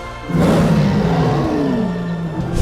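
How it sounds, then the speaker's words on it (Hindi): Edited, movie-style lion roar sound effect: one long, loud, drawn-out roar with a falling growl and a brief rise at the end, heard alone. "जैसे ही शेर दहाड़ता है तो मूवीज में हमें उसकी आवाज ऐसे सुनाते हैं"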